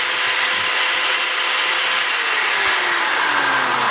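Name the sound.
DeWalt DWD024 hammer drill running intermittently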